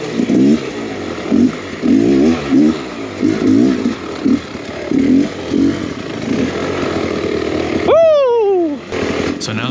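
A Beta X Trainer enduro motorcycle engine rumbles and pulses steadily while being ridden on a November day, then revs hard with a rising, whining pitch near the end.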